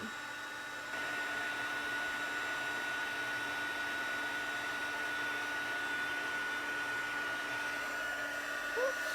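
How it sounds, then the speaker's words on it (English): Heat tool blowing hot air to set puff paint embossing on Christmas tags, a steady close whirring hiss with a thin high whine that switches on after a second and holds evenly to the end. "if you heat set with it tilted just a little bit towards the light, you'll actually see it melting"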